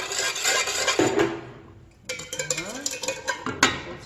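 A utensil scrapes and clinks around a pot as sugar dissolves into soy sauce for braised mussels, a steady close stirring that pauses briefly midway and then resumes with sharper knocks.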